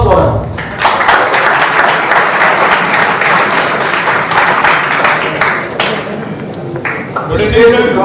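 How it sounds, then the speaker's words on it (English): An audience at a university conference session applauds a speaker coming forward, with sustained, moderately loud clapping from a room full of people that trails off near the end into shuffling and faint voices. "Round of applause for him."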